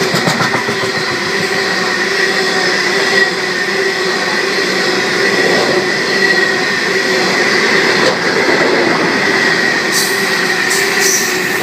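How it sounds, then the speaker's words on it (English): A Sydney Trains Tangara electric train, set T125, pulls into Seven Hills station on a Penrith service, giving a loud, steady rumble of wheels and motors with rail clatter and brief wheel squeal near the platform, and no talk. "And we have a Tangara arriving"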